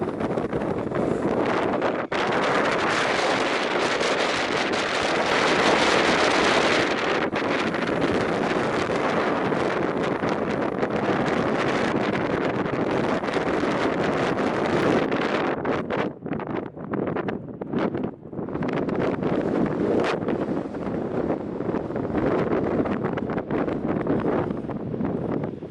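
Strong gusty wind buffets the microphone on an exposed hilltop at Llandegley Rocks in mid Wales, a loud continuous roar that dips briefly near the end before surging again.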